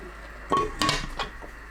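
A lid set onto a cooking pot of round zucchini steamed with soybean flour, mushrooms, green onion and chili: a few short metallic clinks close by, with a light rattle as it settles.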